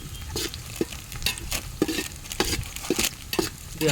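Onions fry to brown in a pan at a biryani cooking party, a soft crackling sizzle broken by repeated scraping stirs in an irregular rhythm.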